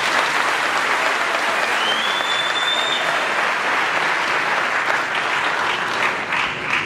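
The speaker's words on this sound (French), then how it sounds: "Sous vos applaudissements." A crowd at a Congolese opposition political meeting claps steadily and loudly throughout, a dense, continuous wash of applause with a faint whistle rising briefly early on.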